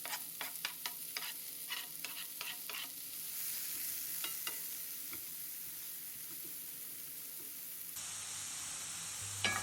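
Spices and chopped leek frying and being stirred in ghee, a soft continuous sizzle with scattered clicks of a spoon against the pan early on, heard close and quiet with no voices.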